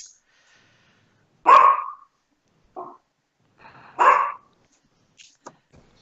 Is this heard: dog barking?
yes